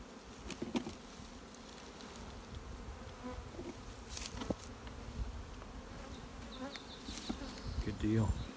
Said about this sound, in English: So we'll just shake the bees off.